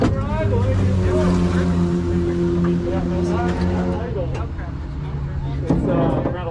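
A race car engine idles at around 1100 RPM in the paddock during a Luckydog Racing League practice session, a steady low droning hum with harmonic tones, while people talk over it.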